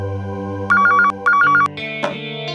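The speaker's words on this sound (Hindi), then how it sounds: "वरुण के सेक्रेटरी गगन का फोन है।" A telephone ringtone sounds in two bright, repeated bursts of electronic trilling, close and clear, followed by a brief rustle as the call is picked up.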